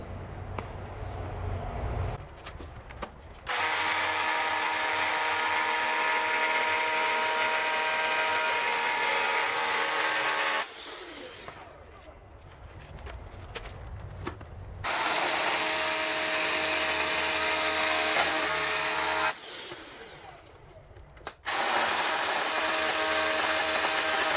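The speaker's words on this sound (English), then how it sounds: "now I changed the drill bit and we are going to make the final holes" A power drill whines steadily through long bursts of drilling, stopping and starting a few times with short quieter gaps between runs.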